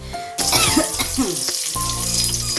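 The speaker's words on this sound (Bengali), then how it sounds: "শুধু এই ঢ্যাঁড়সের তরকারিটা একটু করছি" Okra curry frying in a pan gives a loud, steady sizzle close by, with clinks and stirring noises and a low hum running underneath.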